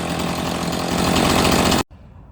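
A chainsaw engine runs at a steady, loud, buzzing idle close by, then cuts off abruptly near the end, leaving near silence.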